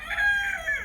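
A farm rooster crows once, close and clear, a bright strained call that rises and holds before tailing off, with no talking over it.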